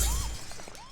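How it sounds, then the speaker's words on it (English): A single open hi-hat sample from a beat kit that sounds like a small crash cymbal. One bright, noisy splash washes out over about a second, alone and close. "So the first one sounds like this. It's like a little crash."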